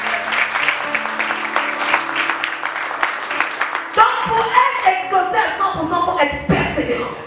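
A congregation at a French-language church service breaks into applause, a dense clapping crowd mixed with voices and some cheering, swelling in the second half.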